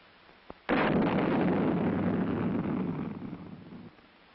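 An Honest John artillery rocket fires from its launcher: a short click, then a sudden loud roaring blast of burning propellant that holds for about three seconds before tapering off, with no voices.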